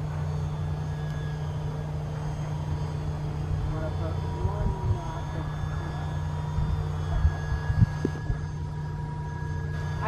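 Foam board Kodiak RC airplane flying in to land, its steady motor drone humming throughout at moderate distance under outdoor background noise, with a voice speaking briefly.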